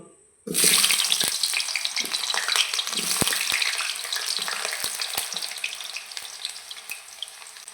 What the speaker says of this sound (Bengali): আলুগুলো আমরা ভালো করে ভেজে নেব